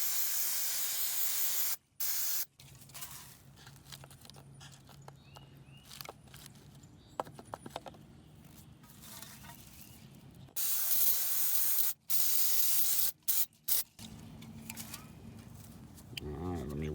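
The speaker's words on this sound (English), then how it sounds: "A little brake parts cleaner will do the trick. Squirt down the brake pads." Brake parts cleaner sprayed onto the brake pads of a Countyline 25 ton log splitter in several loud bursts of aerosol hiss, with short gaps between them and quieter handling sounds in the pauses.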